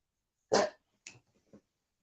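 A dog barks indoors at home: one sharp, fairly close bark followed by two shorter, softer yaps, then silence.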